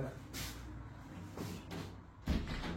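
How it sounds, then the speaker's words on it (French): An indoor door is pushed shut in a quiet room, heard as a few soft thuds and knocks spread over a couple of seconds, with low background hum. "je vais quand même fermer la porte"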